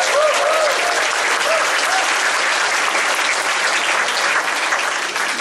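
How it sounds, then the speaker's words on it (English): Loud, dense applause from a concert audience greeting a beginning student orchestra, a full, continuous wash of clapping that holds steady for several seconds with a faint voice or cheer briefly audible underneath. "Round of applause for Simonds beginning orchestra"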